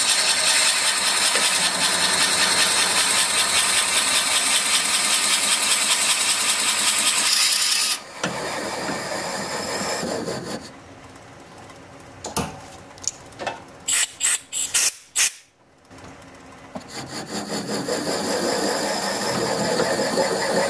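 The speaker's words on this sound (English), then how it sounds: "I'm just going to spin the lathe up at about 300 RPM" A steady whirring hum with a grinding, cutting tone as a Forstner bit drills wood on a lathe at about 300 RPM, loud, then dropping into quieter mechanical clicks and knocks before spinning up again.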